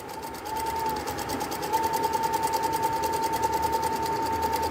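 A sewing machine stitching dori piping, running steadily with a fast even needle chatter and a thin whine, growing louder after the first second and continuing without pause.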